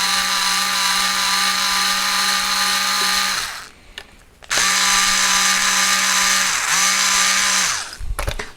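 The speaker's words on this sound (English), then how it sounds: "So I'm just gonna quickly take out the screws." Power screwdriver whirring as it removes screws from a Donner Strat pickguard, a loud steady high motor whine that stops, restarts and slows in pitch as each screw backs out.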